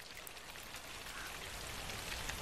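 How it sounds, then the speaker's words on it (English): Steady rain falls during a scene from the 2013 horror film Evil Dead, a dense, even patter of drops hissing continuously with no voices. "Is it raining blood?"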